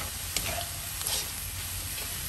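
Fried quinoa with steak is stirred in a hot pan, a steady close sizzle with a few brief scraping knocks of the utensil against the pan, no talking.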